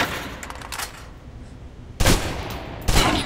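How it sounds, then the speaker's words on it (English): Gunshots fired from cover at a target in the video game Alpha Protocol: two or three loud, close bursts of rapid fire, sharp and booming, separated by brief quieter gaps, with no talking. "Still using cover, take some shots at the target."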